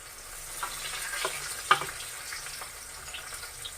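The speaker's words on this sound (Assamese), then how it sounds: "তাৰপিছত এইখিনি অলপ ৰঙচুৱা হোৱালৈকে ভাজি থাকিম।" Onion and bay leaves frying in oil give a steady, soft sizzle with faint scraping stirs and one brief sharp clink partway through, close and moderately quiet with no talking.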